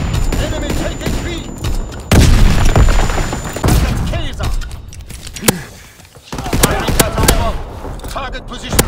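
Bomb explosions and gunfire in the Call of Duty WWII map Shipment 1944: loud booms and bursts of shots come in chaotic clusters, with sharp impacts, brief lulls, and game chatter mixed in.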